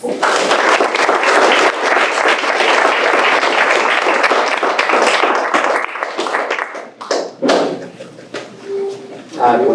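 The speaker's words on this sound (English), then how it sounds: "Another round of applause." Audience at a school board meeting claps in sustained, dense applause for several seconds, then it thins out into scattered claps and a few voices toward the end.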